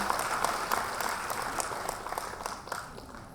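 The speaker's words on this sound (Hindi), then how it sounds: "ताली बजाइए, उत्साह कम हो जाएगा दर्शकों का" Audience applause at a Women's Day 2018 award ceremony, a steady wash of clapping from a seated crowd that carries on at moderate volume for the whole stretch, with no voices standing out above it.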